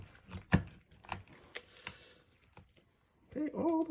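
Knife cutting down through a raw chicken's breastbone during butchery, a series of sharp crunching, cracking cuts with one loud snap, ending in a brief tonal squeak or scrape.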